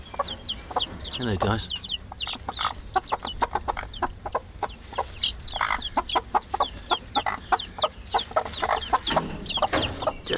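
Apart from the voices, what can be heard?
Australorp Sussex cross chickens clucking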